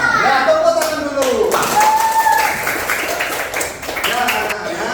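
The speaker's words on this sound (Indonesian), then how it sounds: "tepuk tangan dulu" Schoolchildren in an elementary classroom clapping their hands together, a steady patter of many small hands heard under a teacher's voice and children's chatter throughout.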